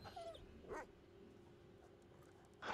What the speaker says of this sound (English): Dog loud as fuck.